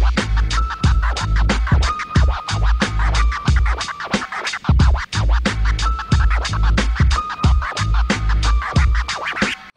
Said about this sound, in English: this sort of predictable, not very well executed string of scratches